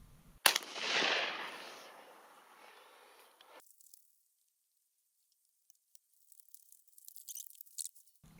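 A single loud, close blast from a Mossberg 930 SPX defensive shotgun firing a Fiocchi load at an outdoor range, with a long fading echo and faint later rustling.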